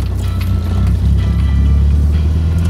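A VW Gol Quadrado car engine hums steadily while driving and misfires around gear changes, giving a loud, low droning rumble with faint irregular knocks over it, no talk.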